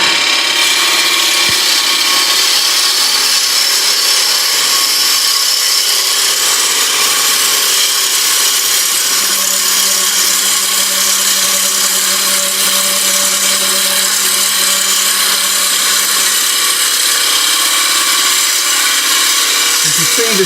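A wood lathe spins a toffee dish while a gouge rides its bevel and pushes the cut around, producing a loud, continuous whirring hiss that never lets up.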